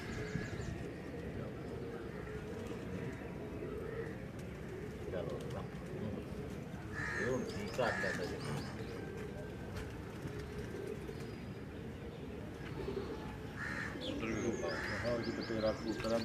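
Pigeons and quails on a rooftop loft in Gujrat give soft coos and scattered chirps over a steady outdoor murmur, with faint voices in the background.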